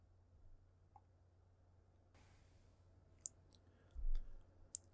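A couple of sharp, close computer mouse clicks, isolated and quiet, over a faint room hiss with a soft low thump in between.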